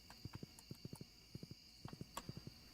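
A horse in the video game Stardew Valley Expanded trots along, its hooves sounding in quick, crisp clusters of clip-clops against a faint background.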